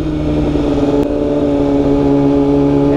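A Kawasaki ZX6R motorcycle engine idles steadily at close range, a smooth continuous hum with a clear low tone, holding even throughout with no talk over it.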